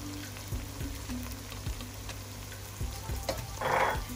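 Scotch bonnet pepper sizzles in frying onions for a beans stew, a steady close crackle with light repeated taps of a spoon against the pot and a brief louder hiss near the end.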